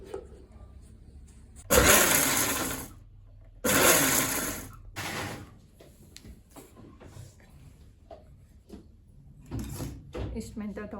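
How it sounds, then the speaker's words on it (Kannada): Green chillies are ground in a mixer grinder in two loud whirring bursts of about a second each, separated by a pause, followed by quieter handling noises and talk. "ಮಿಕ್ಸಿ ಮಾಡ್ಕೊಂಡು"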